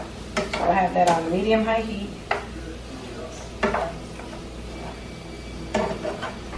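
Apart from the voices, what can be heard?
stirring seasoned chicken breast pieces in pan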